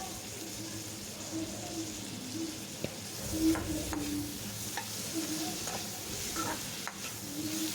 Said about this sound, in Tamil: இப்போ வெங்காயம் தக்காளியும் நல்லா வதங்கிட்டுருக்கு.